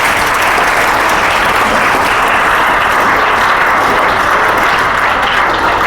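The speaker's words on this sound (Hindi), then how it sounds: "एक बार जोरदार तालियां बजाए कर।" Loud, dense applause from an audience at a school talk, steady and continuous throughout, with no voices standing out.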